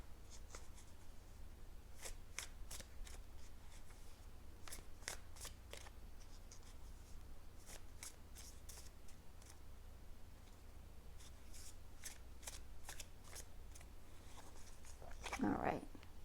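Tarot cards being shuffled make repeated light, crisp riffling snaps in short clusters, faint and close, and a brief voice sounds near the end.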